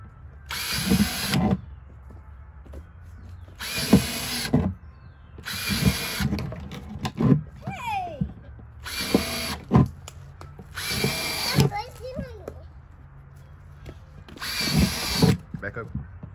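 A power drill runs in six short, loud bursts about two seconds apart, with brief pauses and faint voices between them.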